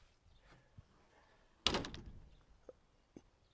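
A Chevrolet Suburban's car door shuts with a single sharp thunk close to the microphone, followed by a short rattle and a couple of faint knocks in an otherwise quiet setting.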